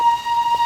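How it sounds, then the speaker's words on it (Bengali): A single steady, shrill whistle tone from the Darjeeling toy train rings out clearly for a brief moment, holding one pitch without any breaks. "টয় ট্রেন যাচ্ছে।"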